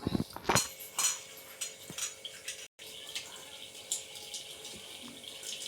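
Tap water runs while rice is washed in a pot, splashing and clattering close up at first, then a softer steady trickle continues with small clinks.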